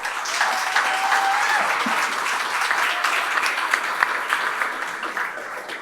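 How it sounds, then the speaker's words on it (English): A forum audience applauds the candidates for district attorney and district court judge, a dense, steady wash of clapping that holds at even strength for several seconds before easing slightly. "another round of applause for our candidates tonight"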